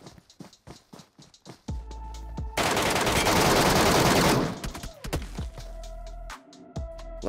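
Rapid bursts of gunfire with poison rounds in the PUBG Mobile Metro Royale shooter, sharp repeated shots broken by a long, dense stretch of continuous fire in the middle, loud and close, with no talking.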